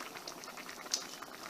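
Salsa verde with pork, zucchini and corn boils in a pot, a dense, steady bubbling and popping heard close, with one sharper pop midway and no voices.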